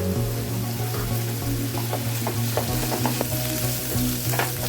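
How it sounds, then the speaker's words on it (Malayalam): Crushed ginger and garlic sautéing in hot oil in a pan, a loud, steady sizzle broken up by repeated scraping strokes of the spoon, close and alone with no talking. "ഇതൊന്ന് വഴറ്റിയെടുക്കാം ഒരു ടേബിൾ സ്പൂൺ ഇഞ്ചിയും വെളുത്തുള്ളിയും കൂടെ ചതച്ചതിട്ട് കൊടുക്കാം"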